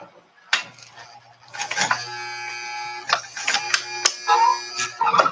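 A sewing machine stitches a makeup pouch in steady mechanical bursts, its whirring stops and starts near and loud, with brief pauses between runs.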